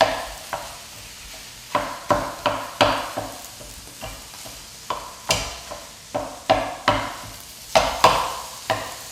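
Lean ground beef cooking in a pan for a Mexican beef and rice casserole, with a low sizzle under regular, rhythmic scraping strokes of a spatula stirring the meat, close and fairly loud.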